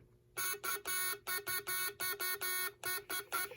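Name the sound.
telegraph practice set buzzer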